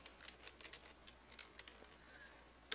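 Quick, light clicks of typing on a computer keyboard patter in an irregular rhythm, faint and close, with no talking.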